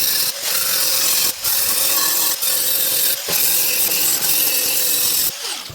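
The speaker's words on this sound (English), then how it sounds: "just take your angle grinder and smooth down that weld" A loud, continuous angle grinder smoothing down a weld on a car floor panel, a harsh steady abrasive whine broken by several brief dips as the disc lifts off the metal.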